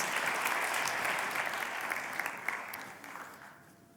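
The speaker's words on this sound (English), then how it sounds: "Big round of applause for the 2022 Best Graduate of the Faculty of Aerospace Engineering." An audience at a university best-graduate award ceremony claps in a dense burst that gradually fades out over a few seconds, heard from across the hall.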